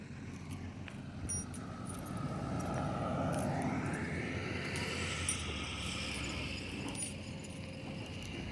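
An airplane at an airport readies for takeoff, its engine rising into a steady broad roar with a sweeping whine that builds over several seconds and holds at moderate distance, with no talk.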